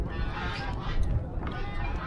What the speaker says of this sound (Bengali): হাঁস, কতগুলো হাঁস।